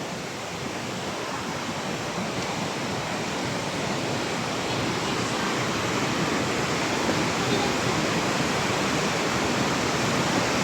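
Water rushing through Wawa Dam and its tunnel channels, a dense continuous roar like a waterfall, loud and steady, building slightly over time with no voices.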